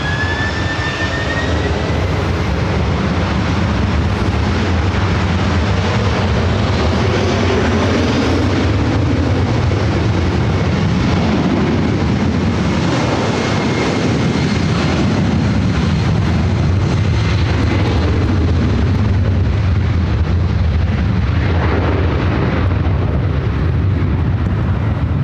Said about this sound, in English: Delta Airlines 446 taking off to Atlanta.